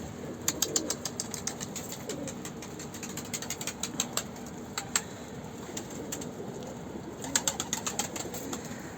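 A pigeon comes down to land, with sharp clicking and wing-flapping bursts over a steady background; no one speaks.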